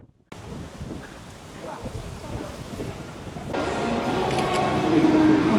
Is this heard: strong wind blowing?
yes